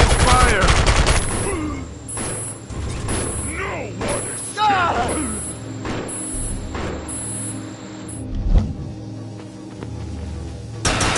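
Rapid bursts of gunfire from the video game Defiance 2050, dense and loud at first, then scattered shots and impacts continuing under game voice chatter and effects.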